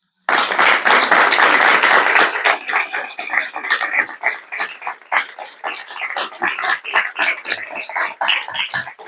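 Lecture audience applauding after a talk on Spain's Generation of '98, a dense burst of many hands at first that thins into scattered, uneven claps trailing off.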